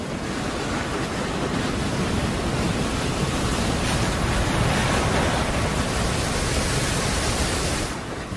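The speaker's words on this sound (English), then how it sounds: "When she breaks, you have the sound of it, you know how it goes on the reef, how it breaks, boom, boom, boom" Ocean waves breaking over a shallow, sharp reef, a loud, steady rushing roar of surf and spray that holds for several seconds and then drops away abruptly at the end.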